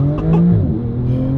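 A Porsche 991.2 Turbo S fitted with a Fabspeed exhaust launches hard, its engine note rising loud and close as it accelerates, with no voices over it.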